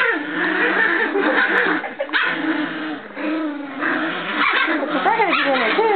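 Miniature Pinscher puppies whimper and yip in a continuous, close chorus of high wavering cries and short yelps, with a person's voice mixed in now and then.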